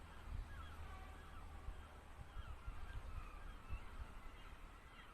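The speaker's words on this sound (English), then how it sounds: "Lot of seagulls." Seagulls call outdoors on a fine day, their cries faint and scattered over a steady low rumble of wind or distant traffic.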